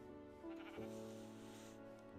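A sheep in the video game Minecraft bleats with a quiet, wavering cry lasting a couple of seconds over steady game background sound, with no voices.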